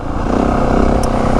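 Steady, loud engine drone from a 2025 Yamaha WR 450F dirt bike exhaust, throaty and continuous at close range, holding an even rumble for the whole short moment with no talk.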